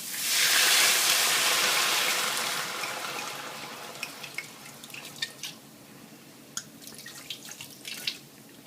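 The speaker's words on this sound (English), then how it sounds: "I'm going to put in half a bottle of the wine" Half a bottle of white wine is poured into a pan of softened, lightly browned onions, starting as a loud rushing splash and hiss that fades into quieter bubbling with scattered drips and pops.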